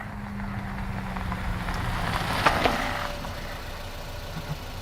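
A car engine idles in a noir audio drama, a low steady rumble that stays faint and even throughout, with no voices over it.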